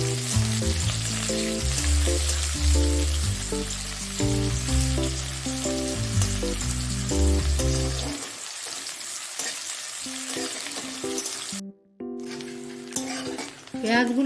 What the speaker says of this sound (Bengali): পেঁয়াজগুলো হালকা করে ভেজে নিয়েছি